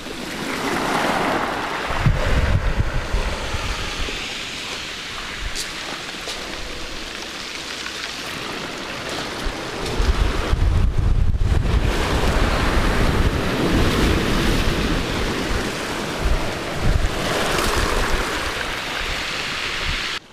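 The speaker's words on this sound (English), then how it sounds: "Let's hope that wind dies down or goes around westerly." Wind buffets the microphone on a south coast shingle beach as waves wash and break in a continuous, loud rushing roar, with stronger gusts swelling at intervals.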